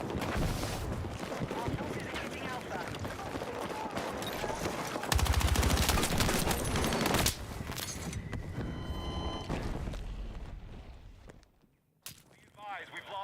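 A carbine fires in Battlefield 6 in rapid automatic bursts amid other battle noise, loud at first and then thinning out, with a voice talking over parts of it.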